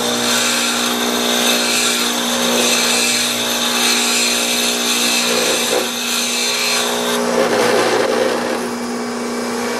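A bench grinder steadily and loudly grinds the gap ends of piston rings for a Rolls-Royce Phantom I engine, a continuous whine with abrasive rasping that roughens slightly toward the end.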